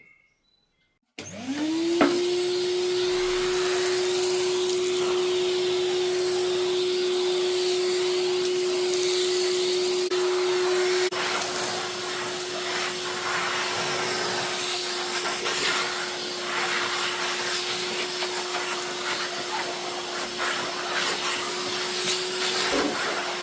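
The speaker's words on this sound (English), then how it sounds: "Quick hoover." A vacuum cleaner starts up in an old kitchen under renovation, settling into a loud, steady close whine that runs without pause to the end.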